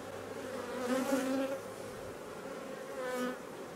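Honeybees buzz loudly and close during a summer honey harvest, a steady droning hum that swells and fades as individual bees pass near.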